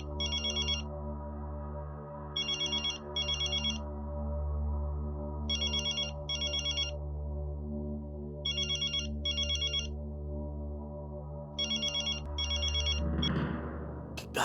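A telephone ringtone chirps repeatedly in paired electronic trilling bursts with short gaps between them, loud and steady above a continuous background hum, with no one speaking.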